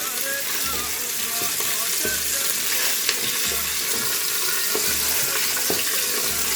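Lamb meat fries in oil in a pot for an Iraqi lamb shank soup, making a steady, loud sizzling hiss with occasional faint clinks of stirring.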